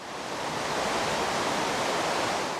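River water rushes steadily over a drop of about three feet beside a cave on Vancouver Island, a dense, even roar swelling slightly then holding, close and loud with no voices.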